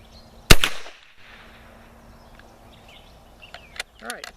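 A single sharp, loud gunshot cracks out from an Argentine gallery carbine firing Lyman 3118 cast bullets over 6 grains of Bullseye, followed by a quiet outdoor lull with faint distant chirps.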